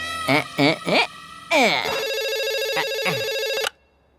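A telephone rings with a steady electronic trill for about two seconds in a dubbed action film, preceded by short bursts of talk and clipped when it stops abruptly.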